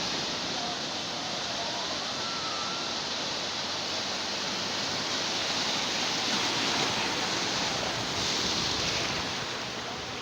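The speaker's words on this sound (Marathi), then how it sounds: "इथल्या ज्या लाटा आहे समुद्र खवळल्यामुळे ह्या लाटा एकमेकांना आदळून फेसाळत आहे" Rough, churned-up sea at Diveagar beach on the Konkan coast, waves colliding and foaming, as a steady, dense roar of surf that fills the whole stretch without pause or distinct breaks.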